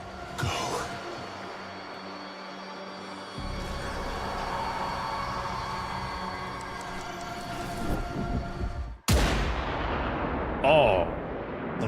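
Gunfire in the video game Warframe hits the player, with heavy, muffled shots and booms over layered game ambience, including a sharp burst near the end.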